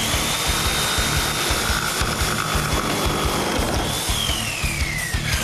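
A jigsaw saws through wood for a homemade camera dolly, giving a loud, continuous buzzing cut with a rapid reciprocating chatter throughout.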